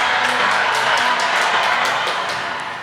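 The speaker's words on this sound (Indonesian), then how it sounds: "Sekali lagi tepuk tangan untuk Erik dari Jakarta" Studio audience applauding and cheering for a guest on a football fan talk show, a short, loud wash of claps and crowd noise that gradually fades out.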